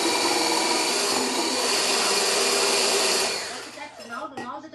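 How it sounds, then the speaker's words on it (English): Steady electric mixer whirring as apple pie dessert filling with cinnamon is whisked, loud and continuous, then easing off near the end into softer clatter and a brief murmur of voices. "so we're going to keep whisking this."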